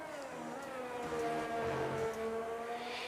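A Formula 1 car engine in an F1 racing game whines with a steady, high-pitched tone that shifts and bends as the car spins around, loud and continuous with no talking.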